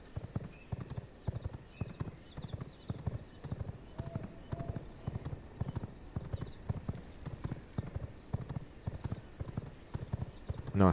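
Horse hooves clip-clop in the vampire survival game V Rising, a steady fast galloping rhythm of sharp evenly spaced hoofbeats that runs the whole time over faint game ambience.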